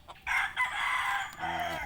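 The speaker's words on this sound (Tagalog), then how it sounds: "Katatapos ko lang mag pagkain ng mga manok" A rooster crows nearby, a loud drawn-out call followed by a short second burst, with no talking.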